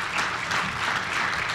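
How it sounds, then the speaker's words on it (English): An audience at a pavement preservation panel discussion gives the panelists a brief, dense burst of clapping, moderately loud and steady. "Let's give our panelists a round of applause."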